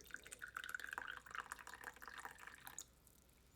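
Oolong tea trickles and splashes softly from a porcelain pot into a small porcelain cup for a few seconds, then stops; faint and close.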